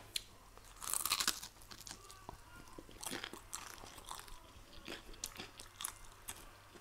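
Cornflakes on a pizza crunch between the teeth in repeated close bites and chewing, with a louder burst early on and then irregular crackly crunches, no talking.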